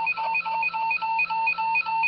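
Simon electronic memory game sounding a repeating series of short electronic beep tones, about eight evenly spaced pulses, clear and close in a quiet room.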